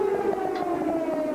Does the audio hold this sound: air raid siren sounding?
yes